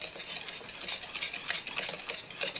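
Paczki dough for Polish jelly doughnuts being mixed until blended, heard as a faint, continuous, uneven scraping and stirring close by, with no talk.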